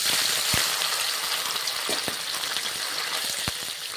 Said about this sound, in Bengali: পনিরগুলো আমি ভেজে নেব